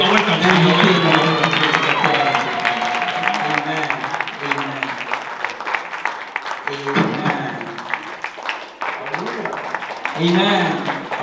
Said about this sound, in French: I'm going to plead you to clap the hands.